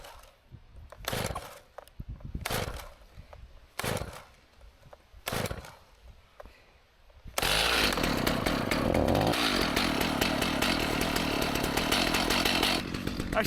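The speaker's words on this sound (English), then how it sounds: "Let's see how many pulls it takes to start the old Stihl today." Old Stihl chainsaw being started from full choke: several separate pull-cord rasps, then the engine catches and runs at a loud, steady buzzing roar to the end.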